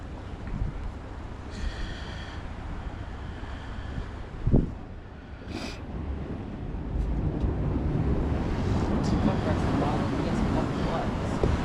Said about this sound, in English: The wind's starting to come in.